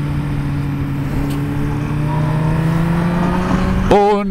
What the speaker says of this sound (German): Oh, Vorsicht, da kommt ein Auto, ne?